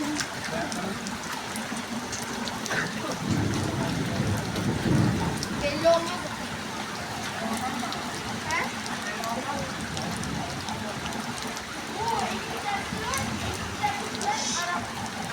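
Steady rain patters on a surface with occasional louder drops, while children and adults talk nearby in 45-degree heat and low rumbles come and go in the background.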